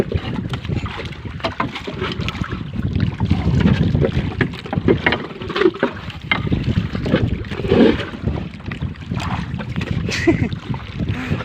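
A small boat moves across open water, its engine and hull noise steady beneath gusts of wind buffeting the microphone.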